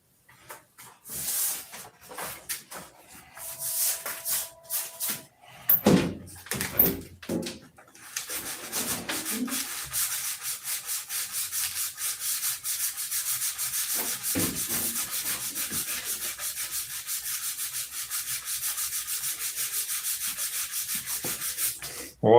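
Hand sanding with 1200-grit sandpaper, a steady rasping rub that begins in scattered strokes and settles into a continuous close scrubbing run, with a few knocks and clatters along the way.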